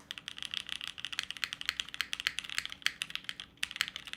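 Rapid, steady clicking of custom mechanical keyboard keys being typed on, close and fairly quiet, with no voices.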